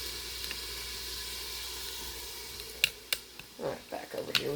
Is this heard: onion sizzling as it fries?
yes